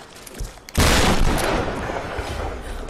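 Gunfire in Tomb Raider (2013), a sudden loud burst of rapid shots after a brief quieter lead-in, with the dense roar of the volley ringing on and tapering off.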